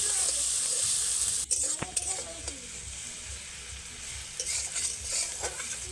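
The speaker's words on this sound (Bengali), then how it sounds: "মশলাগুলো কষানোর সময় আমি যেরকমভাবে কষাচ্ছি আপনারাও ঠিক সেরকমভাবে মশলাগুলো কষাবেন।" Spice paste with onion and tomato being stirred and fried for an okra curry, a loud continuous sizzle with scraping spatula strokes and occasional clinks against the pan, close by.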